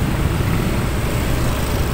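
An automatic (matic) motor scooter accelerates on a public road, giving a steady, fairly loud engine drone with road rumble and no breaks or voices.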